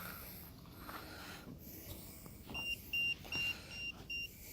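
A phone gives several short high electronic beeps in a repeating pattern outdoors on an estate at night, fairly faint over steady background noise and a low engine-like hum.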